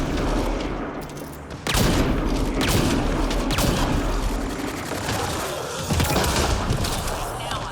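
Rapid bursts of gunfire in a video game, dense and loud, with repeated shots and heavier booms rolling across the scene throughout.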